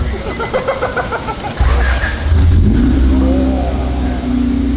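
A manual Honda Civic pulls away hard, its engine note rising into a loud, close, throaty acceleration drone after a brief noisy start, with voices in the cabin over the engine.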